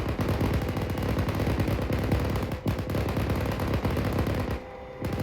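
Machine gun fire from a Marine vehicle during live-fire training, a continuous rapid, loud burst of shots lasting several seconds before cutting off abruptly near the end.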